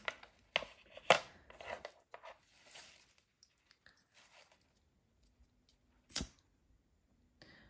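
Macramé cord is snipped flush with scissors in a few sharp, close cuts, first clustered together, then a single isolated snip and a faint click, with near silence between.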